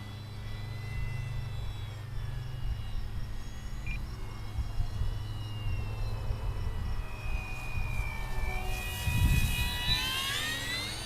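A small RC model plane, an E-Flite RV-7, whines in the distance over steady chirping crickets, then rises as it makes a close pass near the end.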